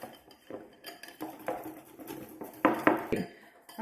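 A spoon scrapes and clinks against a bowl as shaved chocolate is slowly mixed into ganache, in a series of irregular clattering strokes that grow louder toward the end, with no talking.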